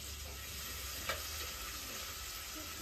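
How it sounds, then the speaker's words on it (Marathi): Garlic and green chillies tempered in hot oil for a chicken curry, a loud, constant frying hiss close by, with one short clink of a stirring utensil partway through and no voices. "आईने फोडणी दिली लसूण मिरची."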